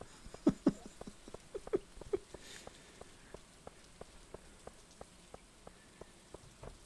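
Scattered raindrops patter and tap on a surface in an irregular rhythm, soft and fairly close, a few louder drips at the start: rain in the video game Stardew Valley.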